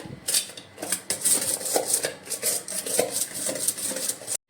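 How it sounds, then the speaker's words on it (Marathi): Spinach and cooked dal are mashed in a pot with a hand masher, a rapid rhythmic series of close metallic clanks and soft wet thuds repeating without pause. "आता आपण पालकची भाजीही ह्याने बारीक करून घेऊया"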